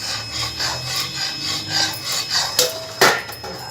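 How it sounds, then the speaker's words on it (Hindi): A spoon stirs rice flour into a pot, making repeated rough scraping and rubbing strokes in an uneven rhythm, with a couple of sharper knocks near the end and no speech. "अब इसमें हम थोड़ा थोड़ा सा ये आटा डालते जाएंगे, चलाते जाएंगे"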